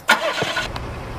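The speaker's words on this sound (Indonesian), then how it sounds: "dia tiba-tiba membawa kabur mobilnya" A car engine cranks and catches, then runs with a steady mid-pitched hum as the car is driven off, heard alone and fairly close.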